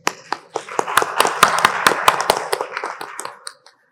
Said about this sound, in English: give a hand applause for the panel